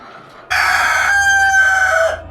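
Male cockerels housed in a shed crow loudly and close by, one drawn-out crow with a bright rising and sustained call standing out over a steady background hum.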